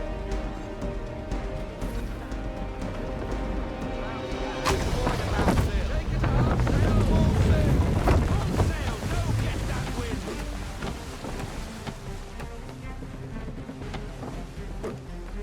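Assassin's Creed 3 sailing ship out on the open sea, with a steady wash of wind and water, creaking rigging, and a swelling rush of surf and spray mid-passage, all continuous with no talk.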